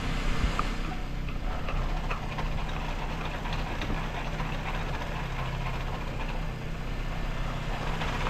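A VW Gol G3 engine idles steadily with the clutch pedal pressed, giving a continuous close rumble with faint rattly texture, suspected clutch noise, and no voices.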